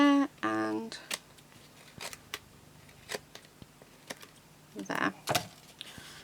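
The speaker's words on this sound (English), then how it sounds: "Scissors." Several crisp snips from scissors trimming A4 card stock at irregular intervals, close up, with brief sounds of card being handled and a short vocal sound at the start.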